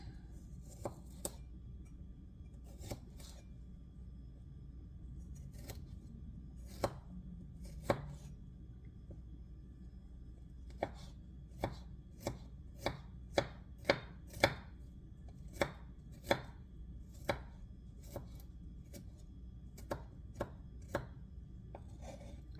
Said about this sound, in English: We want 1 garlic minced.